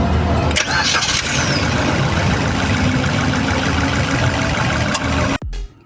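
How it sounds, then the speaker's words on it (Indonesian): A 2021 Suzuki Ertiga GT Sport with manual transmission starts at the push of a start button, and its engine runs at a steady, loud level throughout. The engine is heard up close, and the sound cuts off abruptly near the end. "kita tekankan tombol start engine-nya. Kita hidupkan kopling, kita nyalakan"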